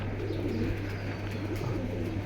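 Pigeons coo softly and steadily against a constant low hum, with no talking, among a large collection of colored pigeons kept for sale.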